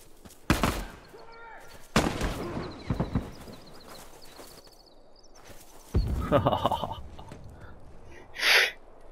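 Rifle fire in The Last of Us video game, several sharp loud broadband cracks spaced a few seconds apart amid quieter game sounds, with a brief burst near the end.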